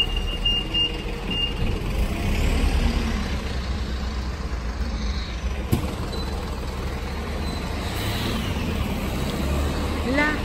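A truck idles and rumbles in a street in Avignon, with a high reversing beep in the first seconds; the engine noise stays steady beside the listener as a passer-by talks over it.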